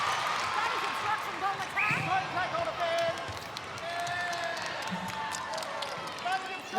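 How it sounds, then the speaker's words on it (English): A crowd at a netball match at John Cain Arena cheers and murmurs steadily, with a commentator talking over it and faint court sounds beneath. "The crowd are cheering that one."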